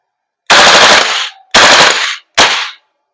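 A VFC Knight's Armament KS-1 L403A1 airsoft gas blowback rifle fires three sharp, loud bursts of rapid shots in quick succession, each lasting under a second, close up with silence between them.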